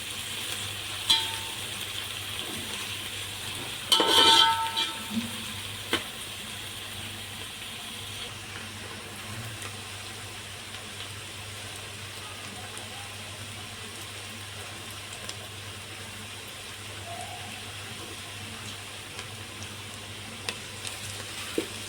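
Garlic frying with onions in a pan for a chicken kabsa biryani, a faint, even background hiss lasting over twenty seconds, with a brief clatter of utensil movement around four seconds and no one speaking.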